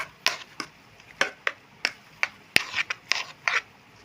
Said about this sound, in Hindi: अब इसको हम मिक्स कर देंगे अपने सारे बैटर को।